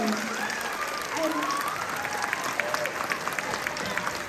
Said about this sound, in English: can we please give Mr. L a huge round of applause?